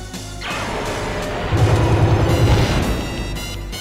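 Hand cannon blasts from the Wild Arms game during a boss battle, a loud booming explosion that swells and rumbles for a couple of seconds before tapering off, with no talk over it.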